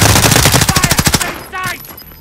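Rapid machine gun fire in the Warzone video game, a loud burst of evenly spaced shots that stops after about a second and a half, followed by a short game voice line and a fading tail.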